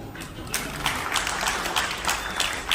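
Audience at a press event clapping together in a dense, steady patter of many hands with a few sharper bursts, moderately loud and continuous throughout.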